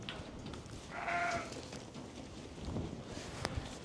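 Sheep in a breeding pen on a ranch give a short bleat amid quiet farm ambience, a single fairly clear call near the middle with faint background rustle and no talking.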